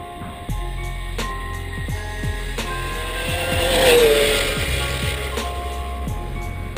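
A Traxxas X-Maxx RC truck with a Typhon 6S motor makes a speed pass, its high electric whine rising and sweeping in pitch as it races by close, swelling to a peak midway, over a steady low rumble and several sharp ticking clicks.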